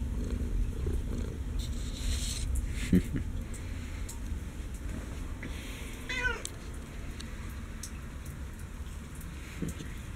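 A cat meows a few times, short high cries over a steady background patter like rain, with a soft voice faintly present.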